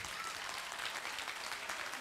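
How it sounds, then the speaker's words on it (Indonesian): Audience applause at an Asadha Puja Buddhist celebration, a steady, dense patter of clapping held at moderate volume for the whole two seconds with no voices over it. "Tepuk tangan buat Dandi ya."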